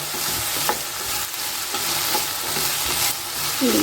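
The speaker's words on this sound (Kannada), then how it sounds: "ಇದನ್ನು ಇವಾಗ ಚೆನ್ನಾಗಿ ಫ್ರೈ ಮಾಡಿಕೊಳ್ಳಿ" Okra (bhindi) frying in a pan and being stirred, a steady close sizzle with scraping stir strokes throughout, no talking.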